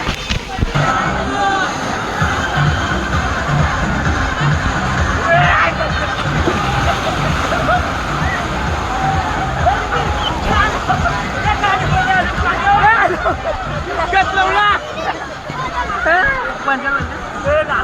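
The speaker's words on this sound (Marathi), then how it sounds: "आज झोपा राईडला खूप गर्दी" Busy crowd at a water park ride, a steady babble of many voices mixed with splashing and sloshing water, continuous and fairly loud throughout.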